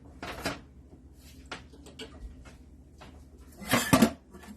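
A pot of very hot water is handled in a home kitchen while making mozzarella, with a few sharp metallic clanks and scrapes spread among quiet pauses, one louder clatter near the end.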